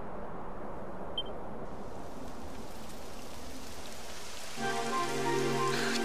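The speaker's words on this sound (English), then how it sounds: "It would have to go and start raining, wouldn't it?" Rain begins falling in Dragon Quest XI, a soft, steady hiss of droplets at moderate distance, joined near the end by a brighter, tonal layer of ambient game sound.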